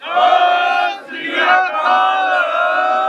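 A crowd at a Sikh protest in Ottawa answering the Bole So Nihal war cry with a loud, sustained chorused shout that dips briefly and then swells again.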